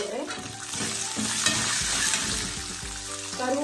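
Cashews frying in a pan with roasted lentils and peanuts for coconut rice, a continuous close sizzle with tumbling, clattering stirring throughout and no talk.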